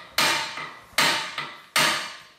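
A hammer pounds on the flange of a wheel hub from a Land Cruiser 100 Series front brake job, landing three sharp metallic blows at an even pace, each with a short ringing tail.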